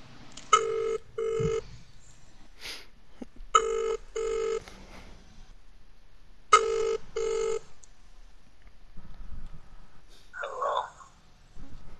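A telephone rings on an outgoing call, with three clear double-burst ring tones spaced evenly apart and a short voice near the end.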